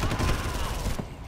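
Rapid close gunfire from a pump shotgun in Far Cry, a dense burst of shots for about a second before it cuts off, with a voice talking over it.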